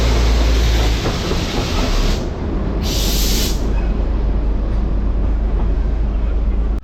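Darjeeling toy train at Rongtong station, a loud, steady rumble of running wheels and carriage noise that carries throughout, with a brief hiss partway through.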